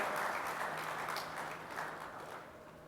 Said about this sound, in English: thank you for your claps.